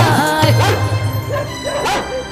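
A voice imitates a dog's repeated barking and whimpering in a sung Alha folk recitation about a devotee and Lord Krishna. The yelps are loud and close over a droning musical accompaniment.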